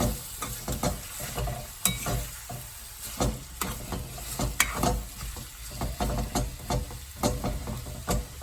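Pandan leaves, cinnamon and curry leaves are stirred into a frying onion mixture in a pan for a vegan spicy potato fry: a steady loud sizzle broken by repeated scraping stirs at an uneven rhythm, with no talking.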